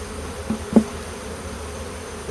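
A steady low buzzing drone of a honeybee swarm, with a couple of brief louder thumps partway through.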